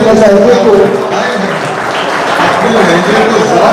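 A crowd at a college mushaira poetry recital in Bhusawal breaks into loud, dense applause, a steady wash of many hands clapping together without a pause.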